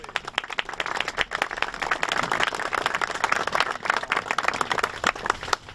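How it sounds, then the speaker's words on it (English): A modest round of applause at a Vietnam War veterans K9 monument gathering in Highground Veterans Memorial Park, uneven clapping from a smallish crowd with distinct individual claps, fairly near and building slightly. "A little applause."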